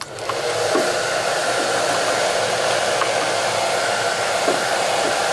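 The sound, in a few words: heat gun heating Kydex sheet for holster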